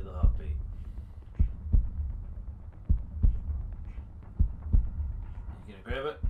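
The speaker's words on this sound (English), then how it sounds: "Why is the heartbeat?" A heartbeat sound effect in a horror-style game, steady low thumping double beats repeating about every second and a half, with brief speech near the end.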